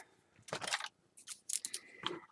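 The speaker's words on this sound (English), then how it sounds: "then I got a pair of scissors" A pair of scissors snips through paper in a few quick crisp cuts, close and fairly quiet, for a mini album craft project.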